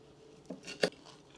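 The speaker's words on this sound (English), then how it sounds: "See how beautiful crunchy it is?" A few short, crisp crunches close by, with the loudest snap near the end, like teeth breaking through brittle kadayif pastry.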